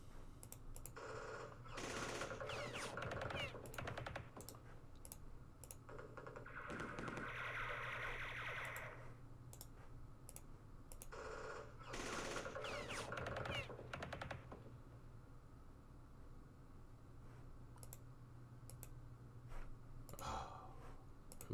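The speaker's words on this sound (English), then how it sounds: "Let's do some shooting." Gunfire in the Vietnam-era wargame Campaign Series Vietnam, with bursts of shots and clicky impacts coming in clusters over a steady game ambience, loud through the middle and fading into sparser pops.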